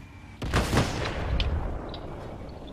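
A tank cannon firing in World of Tanks, one loud close boom that rolls into a long, rumbling decay.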